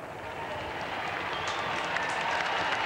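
Crowd applauding and cheering for the Queen at a Calgary Highlanders presentation of new colours, a steady wash of clapping that swells slightly, heard at a distance.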